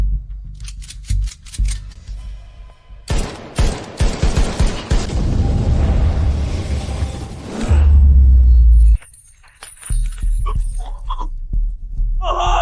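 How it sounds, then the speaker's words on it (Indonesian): Gunfire in a dramatic film scene: several loud bursts of shots and impacts ring out in quick succession, followed by a heavy low rumble, with brief voices between bursts. "Tembak dia!"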